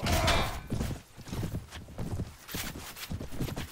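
A large black undead horse's hooves clip-clop in a steady, close rhythm in the medieval game Mount & Blade (Prophesy of Pendor mod), with battle clatter mixed in.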